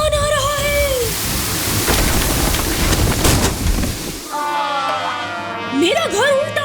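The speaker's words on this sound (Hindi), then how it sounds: "तूफान आ रहा है।" A cartoon thunderstorm with rain and thunder: a loud, rushing roar of rain and rumbling swells for about three seconds and then cuts off, with whistling and voice-like tones before and after it.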